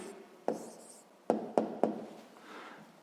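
A pen writes an answer on paper while solving a sixth-grade math problem. It makes a few sharp, close taps and soft scratching strokes in a quiet room, with no talking.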